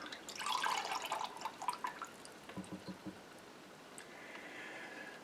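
Liquid pours in a short splashy stream, then trails off into a few scattered drips and a faint trickle.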